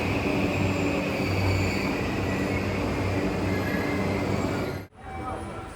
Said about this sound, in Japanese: アクセス特急の成田空港行きが来ました。